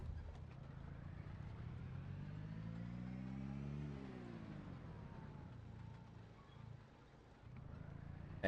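Car engine in the video game Project Zomboid hums at a low, steady level, rising in pitch as it revs up and then settling back down, fairly faint with no voices.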